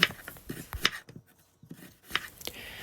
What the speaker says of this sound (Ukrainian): нарізаю три великі цибулини, напівкільцями